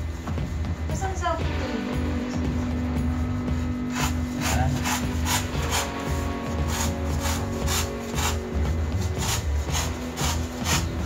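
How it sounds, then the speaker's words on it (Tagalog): A knife cuts through paper for making pandesal paper bags, a steady rough rasping with a rapid train of short scraping strokes, close and continuous, with a voice speaking in the background. "Tapasin natin sa gitna."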